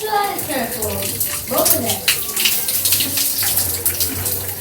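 Water streams from a tap or shower over waist-length hair as it is rinsed, a continuous splashing gush with a voice speaking intermittently over it.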